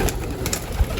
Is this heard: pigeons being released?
yes